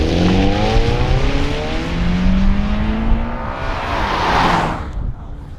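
A 2019 Toyota 86 exhaust revs loud and close, the engine note climbing in pitch through several rises before cutting off sharply near the end.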